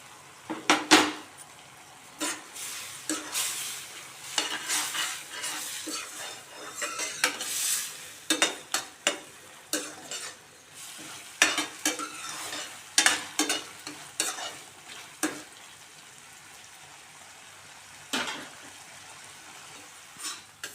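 Green chili tamarind thokku cooking down in oil in a pan, a low bubbling sizzle punctuated by frequent sharp scrapes and clinks of a spoon against the pan, intermittent and close.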